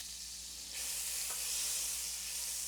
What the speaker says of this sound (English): I'm going to add some olive oil. And I'm going to put a couple of pats of butter in here too.